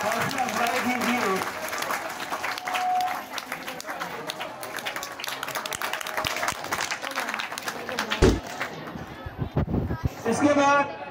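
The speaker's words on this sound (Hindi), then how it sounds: "जोरदार तालियों से हौसला अफजाई कीजिए" Loud clapping from a crowd at a school medal ceremony rises and falls over about eleven seconds while a voice speaks over it, with some sharper knocks and thuds toward the end.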